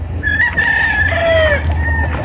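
A rooster crows in a long, close, loud call with wavering tones, joined by clucking from other chickens among farm fowl.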